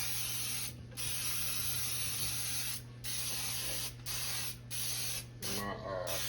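Baker's Joy baking spray sprayed into a cake pan in several bursts of loud, close hiss with brief gaps between them, followed by a short murmur of talk near the end.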